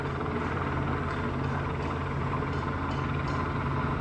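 A helicopter flies nearby over a protest near a Chicago police station, producing a steady, loud rotor and engine drone that holds unbroken throughout.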